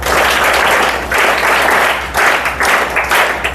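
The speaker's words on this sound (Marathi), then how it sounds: "बस त्याच्यासाठी टाळ्या वाजवा." An indoor audience at a lecture bursts into loud, dense applause in several waves, with brief dips between bursts of clapping.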